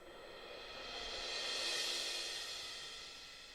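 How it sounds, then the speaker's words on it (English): A single cymbal swell from a live recording, a faint shimmering wash that builds gradually, peaks, and decays into a long, soft tail, heard alone. "We also did some cymbal swells. So these are live recordings that I found online"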